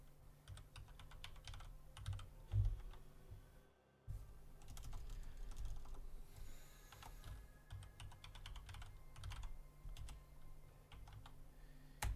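Rapid computer keyboard typing runs through most of the stretch, close and fairly loud, with irregular bursts of keystrokes, a brief pause near the middle, then more busy clattering.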